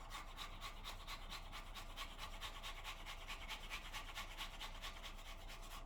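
An apple is grated by hand over a bowl, giving a close, steady rasping scrape repeated in quick regular strokes for the whole stretch, with no talk.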